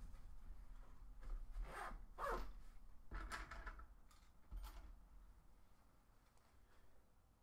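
A gear bag holding lock picking tools is opened, giving several quick zipper-like rasps and rustles at close range, with short bursts of handling noise between quieter pauses and no talking.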